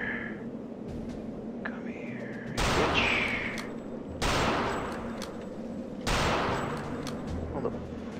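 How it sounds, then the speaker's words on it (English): Rifle shots in Return to Castle Wolfenstein ring out three times, loud and close, spaced nearly two seconds apart with long reverberant tails, over a steady background hum and brief talk. "Time for the rifle."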